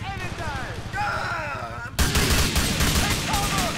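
Bursts of gunfire crackle through a GTA 4 gang war against the Yardies. The shooting grows louder halfway through, with game voices and music running underneath.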